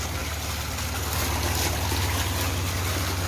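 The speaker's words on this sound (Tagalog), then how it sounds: "pinapandar na ng lolo ko, water pump" A water pump filling a concrete backyard fish pond, a steady rushing and splashing of water with a low motor hum underneath, continuous and close with no pauses.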